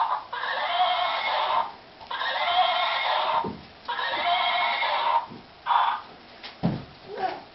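A horse neighs loudly in several long, wavering whinnies in quick succession, heard close and clear with little else around.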